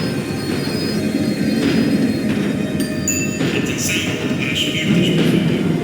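Tram slowing down in the Max Payne 3 video game, a steady rolling rumble with rising metallic squeals and screeches from the wheels, moderately loud and continuous.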